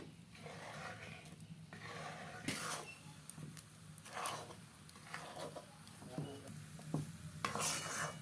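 A thick semolina and gram flour batter is stirred steadily in a wok, producing repeated scraping and thudding strokes at an irregular rhythm, close but quiet, with faint clinks of the utensil and no voices.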